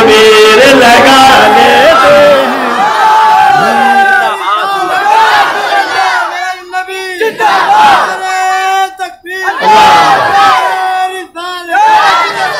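A large crowd at a religious naat jalsa roars a chanted Takbir slogan in loud, swelling unison calls, repeated in waves with a lead voice rising between them.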